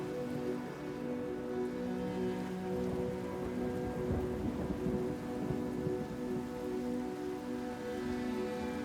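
Heavy rain pours down steadily in a constant wash of noise, with a faint low rumble of thunder building midway and no voices.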